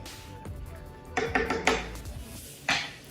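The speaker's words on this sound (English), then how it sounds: "I'm gonna stir a little bit more." Potato leek soup ingredients are stirred in a pot, heard as a few sharp clanks and scrapes of a spoon against the metal, close and spaced over a quiet kitchen background.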